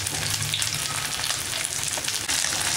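Potato-stuffed fish pan-frying in oil, a steady close sizzle with dense crackling that holds throughout and gets slightly louder near the end, no voices.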